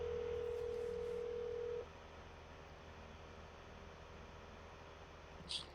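A phone call to a friend goes out, with a steady ringback tone held for almost two seconds, then faint background hiss and one brief click.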